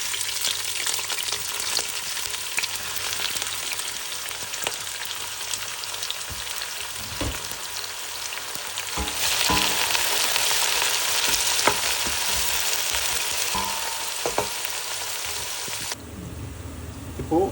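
Whole spices such as cinnamon, cardamom, star anise and cloves, then onion, fry in hot oil for a South Indian chicken biryani, a loud continuous sizzle that swells when the onion goes in, with stirring clatter.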